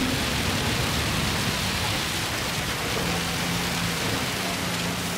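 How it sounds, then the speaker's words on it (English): Heavy rain in a Gran Turismo 7 race at Spa, driven in a Nissan GT-R Nismo LM after Eau Rouge, a steady dense hiss of downpour and spray with a low engine drone beneath, continuous and fairly loud throughout. "The rain is just so deep now. It's coming down."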